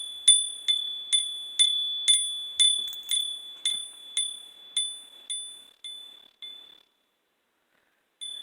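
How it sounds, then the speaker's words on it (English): Small metal bells struck during a tarot reading ring out in a steady series of about a dozen bright, clear dings, each decaying before the next, gradually growing softer, then a pause and one final ring. "I'm having to hit my bells this time around."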